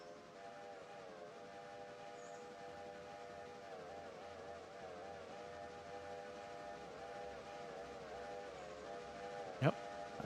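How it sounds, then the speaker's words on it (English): A video-game train approaches with a sustained steady whistle tone, layered horn harmonics and a low rumble, ending in a brief sharp burst near the close; faint background talk. "Yep, that's definitely a train approaching."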